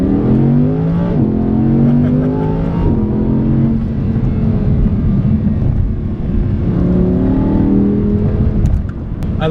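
The naturally aspirated V10 of an Audi R8 revs loud and close, climbing in pitch again and again in a continuous, snarling roar.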